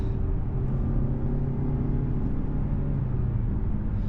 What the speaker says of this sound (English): so let me just downshift, downshift, downshift.